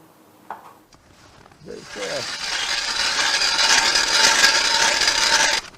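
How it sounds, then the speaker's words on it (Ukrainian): A man drills holes in lake ice for winter fishing, a steady grinding, rasping bore that builds after a brief start and runs loud and continuous to the end, with a short voice near the beginning. "Чоловік свердлить ополонки для зимової риболовлі."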